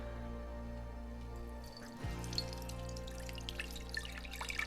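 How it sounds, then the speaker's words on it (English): Fire cider liquid poured through a big sieve, a faint close trickle and splash of liquid that picks up after a soft clunk, over low background hum. "So I'm going to double strain it, first with a big sieve."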